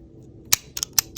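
Several crisp metal scissor snips cutting a length of crochet yarn, a few separated sharp clicks close by in a quiet room.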